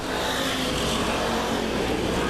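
Race cars at Claremont Speedway weekly racing roar down the backstretch of the oval in 1996, a dense, continuous engine drone from a field of cars at a distance.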